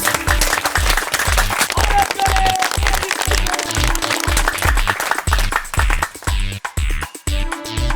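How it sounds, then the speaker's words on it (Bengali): Crowd applause for wrestlers at a district wrestling competition: loud, sustained clapping over a steady rhythmic beat. "আর এদের জন্য হাততালি"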